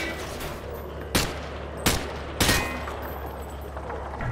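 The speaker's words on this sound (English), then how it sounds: "Grab that weapon off the table and fire at the targets behind you." A rifle fired from the hip in Call of Duty Modern Warfare 2 lets out three sharp, loud shots at uneven intervals over a low, steady background hum.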